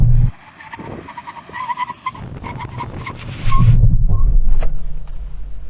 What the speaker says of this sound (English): Brake test from 60 miles an hour, full emergency stop